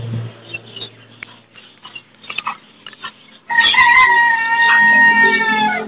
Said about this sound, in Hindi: जो मुर्गा है ना, ये अजाने देना शुरू हो गया